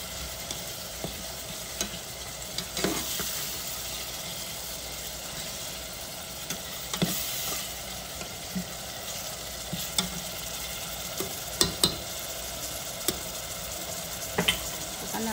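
Tomatoes cook in a pan with a faint, steady sizzle and occasional light clicks of a utensil, quiet and continuous, with a low hum underneath.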